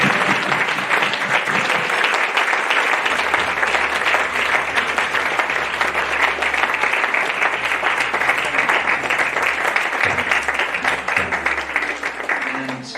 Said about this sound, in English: I would suggest an applause for all 3 groups.